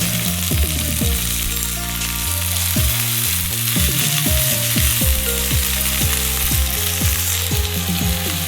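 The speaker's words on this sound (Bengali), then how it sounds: "ভালো করে ভেজে নেব" Moringa (drumstick) leaves frying in a pan give a steady, close sizzle that runs the whole time beneath prominent melodic background music.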